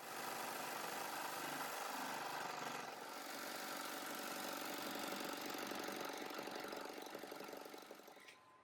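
An embroidery machine sews patches onto preschool nap mats with a steady, dense mechanical hum and rapid needle chatter, continuous and close throughout before easing off at the end.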